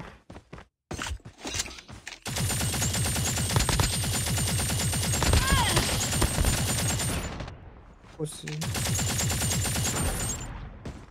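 Automatic SMG and AK-47 fire in a video game, with the AK-47 converted to an SMG: long, rapid, close bursts of shots with a brief pause, then another sustained volley.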